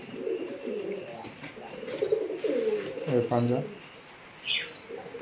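A large long-bodied male Bombay-cross pigeon coos close by in a low rolling burst, with scattered bird chirps around it and someone talking over much of it.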